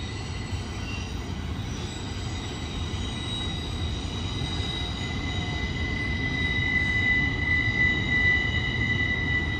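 A long freight train hauling international and domestic shipping containers rolls steadily past at close range, its continuous rumble and wheel noise joined by high metallic wheel squeal that grows slightly louder toward the end.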